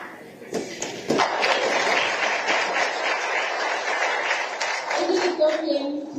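Rhythmic clapping by people at a children's climate summit in Addis Ababa, a Zambian way of giving thanks to elders while kneeling, with a dense patter of hand claps going on steadily under talk.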